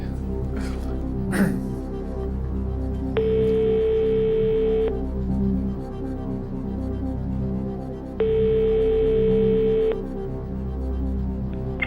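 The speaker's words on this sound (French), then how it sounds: "appelons Pierre-Marie" Two long, steady telephone ringing tones sound on a French TV quiz show, Qui veut gagner des millions, as a phone call is placed from the studio, over continuous studio background sound.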